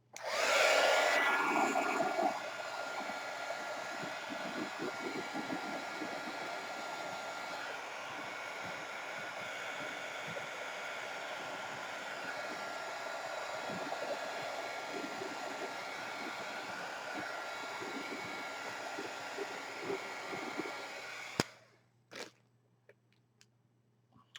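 A hair dryer blows with a steady, loud whooshing roar for about twenty seconds, then switches off, leaving a few faint clicks and near silence.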